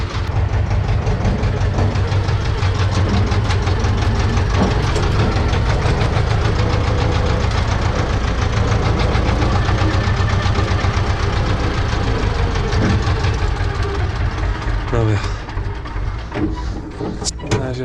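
A tractor engine idles steadily and loudly with a rough, knocking rumble, running alone with no talk throughout.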